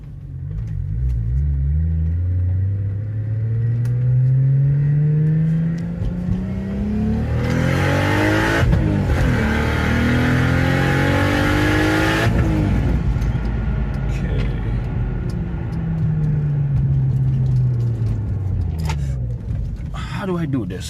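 A car powered by a Toyota 2JZ-GTE VVTi engine accelerates hard, its loud, rising engine note climbing through the gears with sharp shifts in between, then easing and building again, heard from inside the car.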